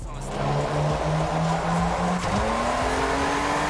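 A V6 car engine in the racing game Test Drive Unlimited Solar Crown hums steadily, then its pitch climbs smoothly as it revs and accelerates, loud and close.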